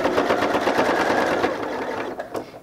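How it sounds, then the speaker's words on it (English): A sewing machine stitching a fleece hat runs in a fast, steady whirring rhythm up close, then slows and stops with a couple of clicks near the end. "So let's go ahead and start sewing."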